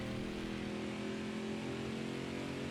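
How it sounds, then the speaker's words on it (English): A NASCAR race car engine in Nascar Heat 4 holds a steady, loud, high drone on a road course, with the pitch shifting slightly as the car accelerates. "Man, I love these engine sounds."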